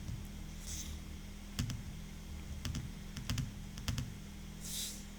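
Keys on a computer keyboard are tapped in short clusters of crisp clicks, with a few quick bursts spread over several seconds against a steady low background hum.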